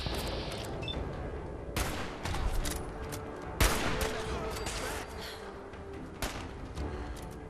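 Rapid bursts of gunfire crackle through a firefight against gunners in Fallout 4, with sharp louder shots standing out near 1.8, 3.6 and 6.3 seconds over a steady din of shooting.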